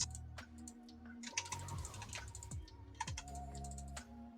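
Rapid keystrokes on a computer keyboard during a League of Legends match, clattering in irregular bursts of close, crisp clicks under steady game sounds.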